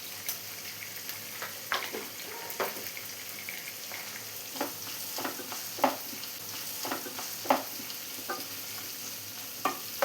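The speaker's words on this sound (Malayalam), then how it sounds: "ഇതിന് നന്നായി തന്നെ ഒന്ന് സോട്ട് ചെയ്തെടുക്കാം." Capsicum and mushrooms sautéing in a pan for chilli mushroom, a steady close sizzle with frequent scraping stirs of a spatula, no voices.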